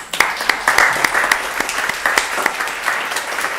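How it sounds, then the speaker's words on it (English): A community forum audience on firearms violence applauds itself: irregular, fairly close claps from a modest crowd, with a few louder individual hand claps standing out over the steady clapping. "Audience, give yourselves a round of applause."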